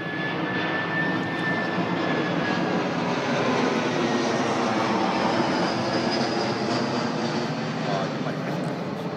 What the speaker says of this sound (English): You can hear the noise of the jet flying over.